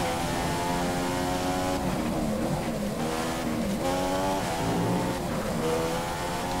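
A 2014 Mercedes Formula 1 car engine in the racing game F1 2015, practising at the Austrian Grand Prix, screaming at high revs with repeated gear shifts and rising and falling pitch, loud and continuous.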